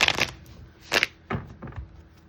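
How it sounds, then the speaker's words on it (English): A tarot deck is shuffled again in short separate bursts, each a brief close papery flick or riffle of cards with quiet gaps between them, and no talking. "Do one more shuffle and then we'll split the deck."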